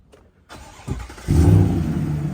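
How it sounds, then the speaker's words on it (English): A GM pickup truck's engine cranks and fires up, then settles into a loud, steady rumbling idle through the exhaust, heard up close with no talking. "Listen to that exhaust."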